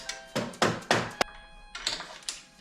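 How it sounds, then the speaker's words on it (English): A revalved shock being tapped into place on a 2021 Yamaha YFZ 450R quad build, a handful of close dull thunks spaced irregularly, with a faint steady tone in the background and no talking. "Probably gonna give this a little couple of taps."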